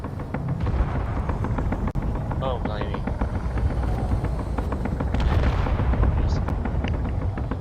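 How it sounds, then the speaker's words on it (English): Heavy gunfire from a ship's weapons in the space game Space Engineers, a dense continuous roar of rapid booming shots with rumbling bursts, loud and sustained throughout, with a voice speaking briefly over it. "what's that big shooting noise?"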